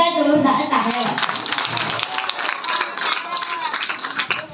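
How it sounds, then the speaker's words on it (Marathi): An audience at a village festival program claps for the organizing team, a dense burst of many hands clapping together, fairly close and loud, with a voice heard briefly at the start. "संयोजन टीम साठी एकदा जोरदार टाळ्या वाजवा"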